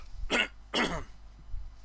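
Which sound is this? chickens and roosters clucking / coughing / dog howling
coughing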